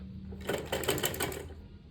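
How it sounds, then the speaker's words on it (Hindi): A sewing machine stitches fabric for a small doll dress, a quick rapid run of mechanical clatter lasting about a second, close and clear with no talk. "इसके ऊपर हम अपने फैब्रिक को इस तरीके से रख के सिलाई कर लेंगे"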